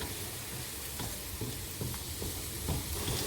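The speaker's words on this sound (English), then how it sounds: "Keep stirring it till the garlic and onions turns a little golden brown." Garlic and onions frying in a pan, with a steady close sizzle and soft, repeated scrapes of stirring throughout. No voices.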